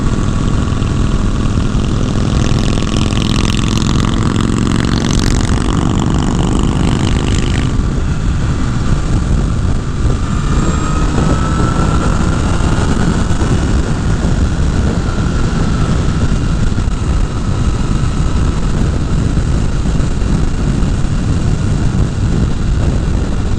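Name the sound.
Honda CBR 1000 Repsol motorcycle being ridden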